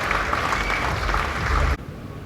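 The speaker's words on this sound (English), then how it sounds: "We can have a big round of applause." Audience applause at a launch event, a dense wash of clapping from a crowd that holds steady and then drops off sharply near the end.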